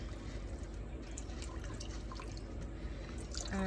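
Water draining and dripping out of a LECA clay-pebble plant pot over a kitchen sink, heard as a close, continuous patter of drips and trickling with no talk.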